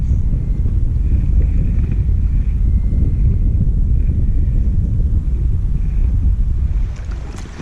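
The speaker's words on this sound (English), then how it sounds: "We got the wind blowing in our face" Steady, loud wind buffets the microphone over open water on Lake Santee Cooper during kayak fishing, a constant low roar with faint lapping, easing slightly near the end.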